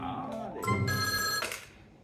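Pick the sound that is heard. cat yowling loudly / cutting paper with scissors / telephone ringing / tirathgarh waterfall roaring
telephone ringing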